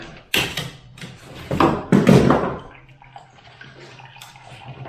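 Water from a drained heating radiator splashes into a half-full bucket in a bedroom, with two loud gushing bursts early on that fade into quieter trickling and dripping, nearby and with no talk.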